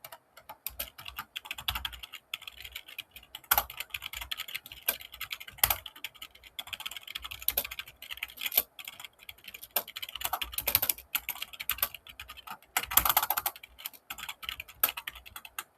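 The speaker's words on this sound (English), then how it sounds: "I'm gonna write down the basic code first." Computer keyboard typing as code is entered, a steady run of close, quick clicky keystrokes with short pauses and a few louder bursts, no talking.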